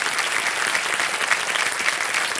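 Sustained, dense studio audience applause honoring author Sudha Murty on a televised quiz show set, steady and loud throughout with no talk.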